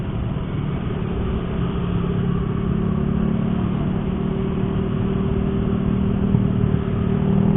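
A car engine idles smoothly after a lifter tensioner replacement, a steady, even low hum and rumble with no knocking, close by and unbroken throughout.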